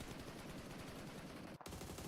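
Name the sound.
gunfire in PUBG Mobile video game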